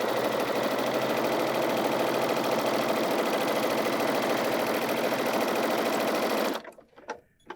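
Sewing machine running continuously along a quarter-inch quilt seam for a Taos quilt, a loud steady whir that cuts off abruptly near the end, leaving a few soft clicks.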